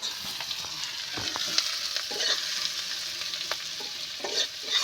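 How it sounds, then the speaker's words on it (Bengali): Turmeric, chilli and green chilli spices are stir-fried in oil for a Bengali koi fish curry, giving a steady close sizzle with soft scraping strokes of a spatula through the pan, and no voices. "ভালো করে আমি মশলাটা কষে নেব।"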